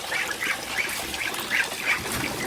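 Young ducks quack repeatedly in a continuous, busy chorus against a steady background hiss, with no voices present.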